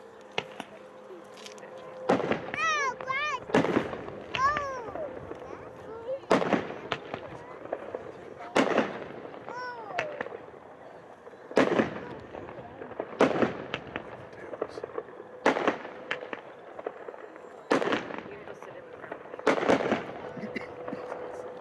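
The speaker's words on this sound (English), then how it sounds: "Undoubtedly one of my favorite effects, the titanium gold palm. That was Fat Chance." A 200-gram Fat Chance ten-shot firework cake with a titanium gold palm effect fires outdoors, giving about ten sharp, loud booms at uneven intervals.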